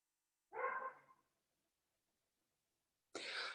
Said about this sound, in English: The dog hasn't barked all morning, and then of course you start to do a class and away she goes.